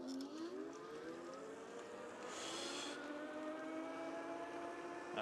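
An Element Bondi electric scooter in mode 5 accelerating toward top speed, its motor whine rising steadily in pitch as a thin, continuous tone over faint road rumble, with no talk.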